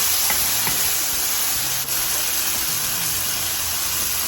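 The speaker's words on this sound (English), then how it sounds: "I'm gonna stir those in." Chiles are stirred into a hot pan of oil while cooking enchilada sauce, giving a loud continuous sizzle and hiss with faint scraping from the stirring.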